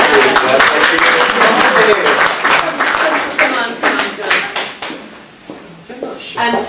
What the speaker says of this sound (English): Round of applause for Julia.